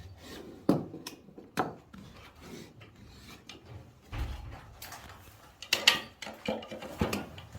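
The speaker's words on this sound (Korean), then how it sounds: "그래도 깔끔하게 칼질로 마무리 해줍니다." A utility knife scrapes and trims the corner of a curtain box during interior installation work, giving irregular close rasping and scraping strokes with a few sharper clicks.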